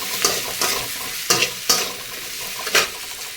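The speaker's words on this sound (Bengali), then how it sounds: "সব কোটাকে একটু ভালো করে নেড়ে নেব।" Eggplant and potato pieces frying in a pan, stirred with a utensil; five or six distinct scraping strokes land at an uneven pace over a steady close sizzle.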